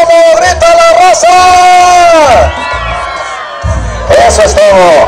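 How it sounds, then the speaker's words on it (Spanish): A crowd at a jaripeo bull-riding event roars, shouts and whoops in loud bursts, fading briefly before surging again, with an announcer's amplified voice over it. "A ver cómo grita la raza."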